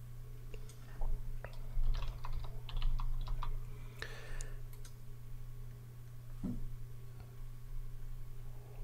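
Typing on a computer keyboard, scattered light clicks and taps at an uneven pace over a steady low hum, fairly faint and close, with no voices.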